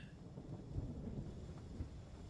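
Rain falls with low rolling thunder in a factory-building video game, a faint, steady rumble and hiss with a couple of soft low swells and no voices.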